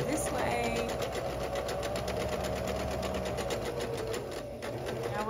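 Kenmore 385 Series sewing machine running steadily while darning fabric in an embroidery hoop, a continuous fast mechanical whir with rapid needle ticking, close and fairly loud throughout, with a brief dip near the end.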